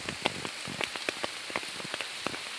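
Rain falls on a forest in a steady hiss, with distinct drops pattering close by in an irregular rhythm on leaves or another surface, and no talking.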